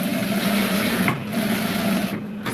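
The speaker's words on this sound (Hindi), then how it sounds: "और रखने के बाद में हम यहाँ से सिलाई लगाएंगे एक।" Continuous close mechanical whirring from a sewing machine working on a pants fly, a steady rasping drone that holds through with slight dips and no voices.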